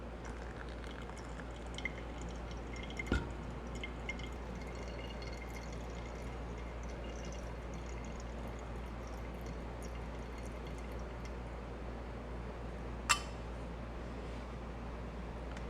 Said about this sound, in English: pour only 180 grams of water.